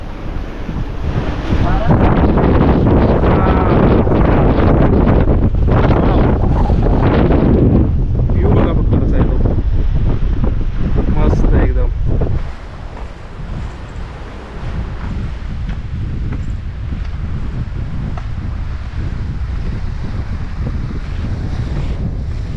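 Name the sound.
strong wind blowing into microphone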